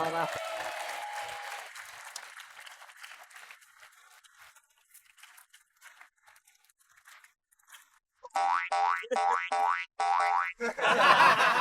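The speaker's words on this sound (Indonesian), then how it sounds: "Ayo, tepuk tangan buat keempat juri kita." Studio audience applause for the four judges at an Indonesian TV comedy show, coming in loud bursts near the end after quieter, broken noise, with talk from a host.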